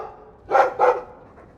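A dog in Dragon Age 2 gives two quick, close barks in succession, the second following right after the first, then falls back to quiet breathing.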